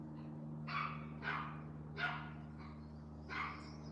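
A small dog barks outside, wanting to be let back in: four short, sharp yaps spaced about a second apart, somewhat distant and muffled over a steady indoor hum, with no one talking.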